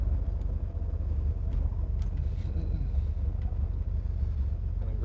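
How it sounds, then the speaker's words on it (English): 1973 Chevrolet Camaro cruising slowly in fourth gear at about 30 mph, a deep steady engine rumble heard from inside the car with road and wind noise, loud and continuous. "Fourth gear, and we are like idling at like 30 miles an hour."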